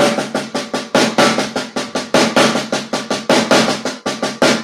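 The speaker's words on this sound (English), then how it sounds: "The 6-stroke roll sounds like this." A six-stroke roll played on drums, repeated in quick tripleted groupings with sharp accented strokes and a steady bouncing rhythm, loud and close with no talking.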